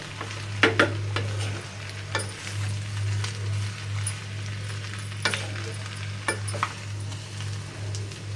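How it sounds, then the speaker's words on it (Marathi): Boiled potato bhaji being stir-fried in a pan, with a low steady sizzle under repeated sharp scrapes and clinks of a spatula against the pan, and no one talking. "इथे फक्त 2 मिनिटात आपल्याला ही भाजी परतून घ्यायची आहे"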